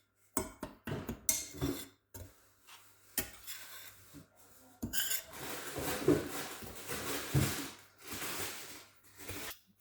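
Semolina (rava) dry-roasts in a pan while a spoon scrapes and stirs it, giving a run of sharp metallic clinks and taps followed by a longer stretch of dense rustling scraping, close and moderately loud.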